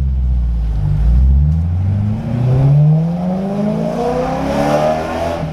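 A BMW E93 M3 convertible engine with a fireball tune revs hard and loud, pitch sweeping up repeatedly as it accelerates, close by with no talking.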